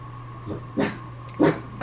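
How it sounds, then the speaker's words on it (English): A dog at home gives two or three short, close barks, the first softer and the last two sharper, over a faint steady hum. "my dog is barking because he can hear"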